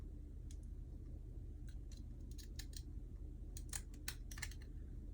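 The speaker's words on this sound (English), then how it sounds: "I have these decal scissors, but I don't know how well they'll cut lace." Small decal scissors snipping through lace while making journaling cards, producing several crisp, quiet cutting clicks in short clustered bursts over a low steady hum.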